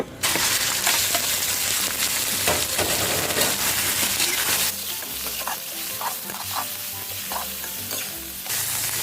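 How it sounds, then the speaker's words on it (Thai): Loud, constant sizzling of chicken stir-frying in hot oil in a wok over medium heat, with scraping and clattering as it is tossed, easing slightly partway through. "ให้ใส่ไก่ลงไปผัดก่อนเลยนะคะ"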